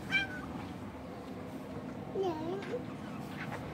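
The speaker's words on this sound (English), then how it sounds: "And then there's that cat." A house cat meows a couple of times indoors, brief, fairly faint calls rising over a steady room hum and soft background voices.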